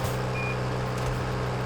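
Reversing beeps from a farm vehicle in Farming Simulator 22, a single steady electronic tone over a constant low engine rumble.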